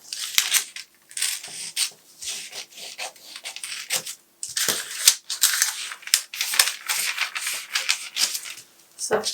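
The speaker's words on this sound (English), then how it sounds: "So I've cut open all my lines. I'm going to cut against them here so I can open them up." Scissors snipping and rasping through a paper sleeve pattern, cutting open the drafted lines for a short puffed sleeve; close, repeated crisp cuts with short pauses, no talking.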